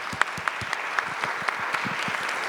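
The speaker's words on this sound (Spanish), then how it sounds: "Damos un fuerte aplauso." Audience applause closing a panel discussion at a university autumn event, steady and moderately loud, with a few sharper individual claps standing out, and no voices over it.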